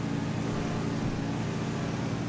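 A vehicle engine in GTA drones steadily and loudly, holding a dense, even roar throughout with no clear rise in pitch and no voices over it.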